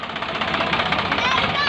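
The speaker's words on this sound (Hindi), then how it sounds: "आज मेरे भाई का धान कट रहा था और ट्रैक्टर के ज़रिए इसको ढो कर के ले जाना पड़ता है घर।" Tractor engine running close by during a rice paddy harvest in a Nepali village, a loud, rapid knocking diesel chug with a steady pulsing beat.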